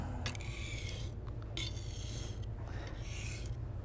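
A western kitchen knife is sharpened in short sections along its length, giving steady raspy scraping strokes with brief pauses between passes, close and continuous under a constant low background hum.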